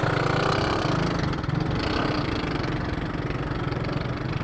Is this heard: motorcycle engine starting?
yes